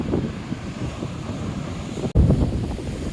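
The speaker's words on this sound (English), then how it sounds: "Taking a look now at the waves breaking, they are breaking in what looks like 5 or 6 different sets." Ocean waves breaking on a sandy beach, a continuous low rolling surf mixed with heavy wind buffeting the microphone, steady throughout with a brief dropout and a louder gust of wind noise near the end.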